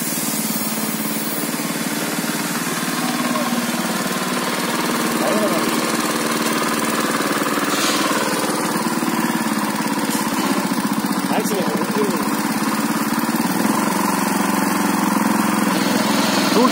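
An agricultural machine's engine runs continuously nearby as a steady, buzzing drone that stays even throughout, with no clear revving.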